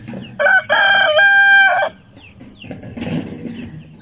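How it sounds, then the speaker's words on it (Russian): A rooster crows loudly and close, a long harmonic call lasting over a second, followed by softer chickens clucking and murmuring in a farmyard, with no talk. "Видите, как мало курочек"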